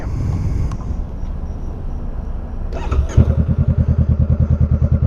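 A Honda Rebel 500 engine with a new muffler idles with a muffled, rhythmic chug that grows louder and steadier near the end after some rustling and a clunk.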